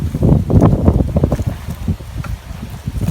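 Outdoor wind gusts buffeting the microphone in a low, uneven rumble that rises and falls throughout, with no talking.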